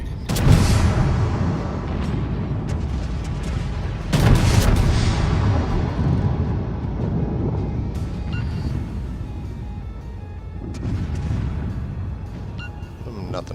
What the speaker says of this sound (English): We're going to shoot at this catapult here.